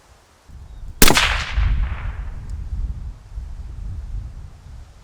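A single suppressed 6.5 Creedmoor rifle shot cracks sharply once, then a rolling echo decays over several seconds outdoors, with no talking.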